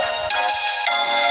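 A phone ringtone going off during a live stream, a bright sustained electronic melody of steady tones shifting pitch twice, loud and close with no talk over it.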